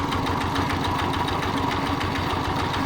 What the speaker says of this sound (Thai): ตัวนี้เป็นวิธีการอิ่วกาแฟโดยใส่รถไถคูโบตาเนาะ